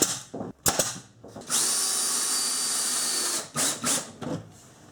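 A power drill drives a screw through an upper cabinet face board into a 1x2 fastened to a rafter in a vintage Shasta camper trailer. It opens with short clicks and bursts, then comes a steady whirring run of about two seconds and a few brief trailing pulses.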